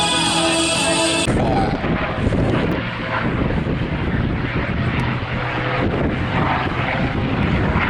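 A P-40 propeller fighter flying at an air show roars loudly and continuously, its engine drone mixed with wind buffeting on the microphone.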